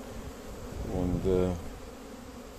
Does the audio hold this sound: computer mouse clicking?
no